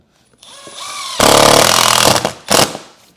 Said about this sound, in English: We're gonna put a screw in here.